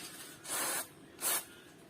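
Aerosol cleaner sprayed onto a graphics card's cooling fan, two short hissing bursts, the first longer than the second, close and fairly loud with quiet gaps between.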